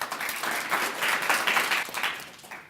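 An audience at a 2018 Boys and Girls Clubs speech event gives a steady, moderately loud round of applause after a youth's speech, a fairly even wash of clapping that tapers toward the end.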